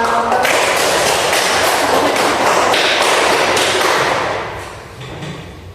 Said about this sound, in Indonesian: Lalu kita beri aplaus pada